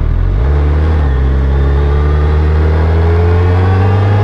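A 2022 Suzuki Hayabusa motorcycle engine revs and pulls away, a loud, close, continuous drone that climbs in pitch over the first second and then holds a strong steady roar, with no talking.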